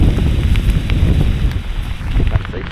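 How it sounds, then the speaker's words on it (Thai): Rain begins falling in a forest at evening, a dense patter of drops mixed with gusty wind buffeting the microphone, heard without speech. "โอ้ฝนจะตกแล้วทุกคน"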